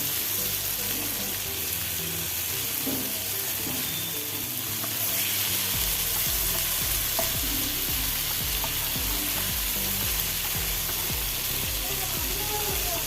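Kingfish sizzles in hot oil in a frying pan, a loud, steady crackling hiss that runs continuously throughout, close by, with no talking.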